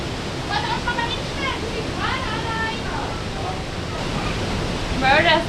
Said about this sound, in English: Oh, this is going to the waterfall.